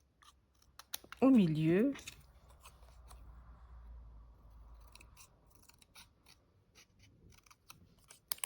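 Scissors snip paper for a pop-up cat card, one loud close cut followed by softer paper rustling and handling, with brief quiet speech.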